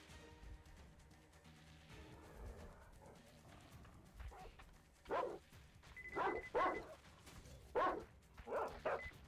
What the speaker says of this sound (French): Ok, on est dans une zone où il y a du chien.